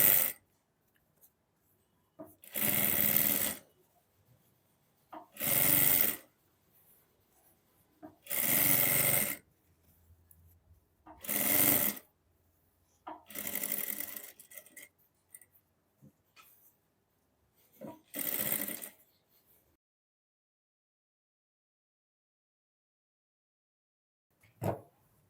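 A sewing machine runs a line of edge stitching along a kameez neckline in about seven short bursts of close, rapid whirring, separated by quiet pauses.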